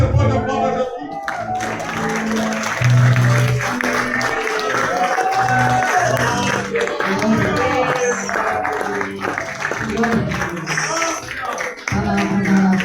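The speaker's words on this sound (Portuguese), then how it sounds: "Você pode aplaudir Jesus." Church congregation applauding at a pastor's birthday service, a sustained wash of clapping and crowd noise over music with tonal accompaniment, with voices mixed in throughout.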